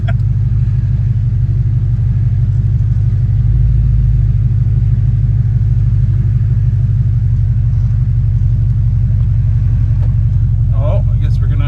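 Steady low rumble of a vehicle engine towing haying equipment as it arrives at a farm at the start of the hay season, loud and close throughout, with faint speech near the end.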